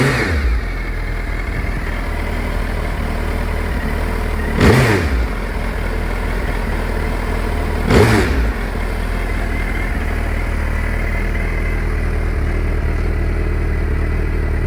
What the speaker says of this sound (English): Let's hear that Brock's Performance rumble.